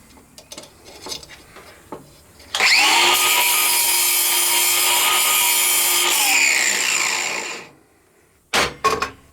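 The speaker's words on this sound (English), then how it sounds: "I'll show you how I sharpen the tungsten" A tungsten electrode for TIG welding being sharpened on a grinder: after some faint knocks, a sustained high grinding whine runs about five seconds, then spins down, followed by a few sharp taps.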